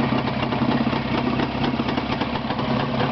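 A steady engine idles continuously with a low, even rumble and no pauses, close by, with no voices.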